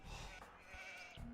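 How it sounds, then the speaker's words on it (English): Sheep in Age of Empires 2 bleat faintly in a short, wavering call, with no talking. "Looks like I've found my sheep already."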